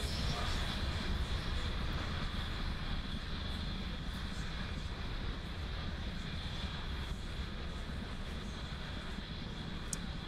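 SpaceX Falcon 9 rocket engines roar steadily during ascent on the KPLO mission, a dense, continuous rumbling wash with no letup throughout.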